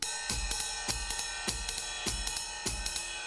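A steady, repeating bebop drum pattern with bass drum thumps and snare hits in an even groove, played alone over a sustained tonal backdrop.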